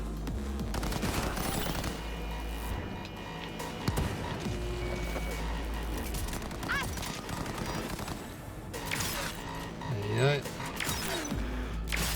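Pistol gunfire in the Cyberpunk 2077 video game, bursts of shots with mechanical clanks amid dense game sound and effects, with a voice talking over it.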